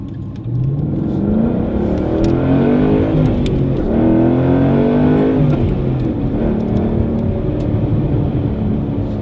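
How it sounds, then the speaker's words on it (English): A Ford Mustang Boss 302 drives on the road, its V8 engine droning loud and close. Gear whine and tire roar ride along as the revs rise and fall in smooth sweeps without a break. "You get some gear noise, you get road noise, tire noise, but you do hear the engine noise a lot better."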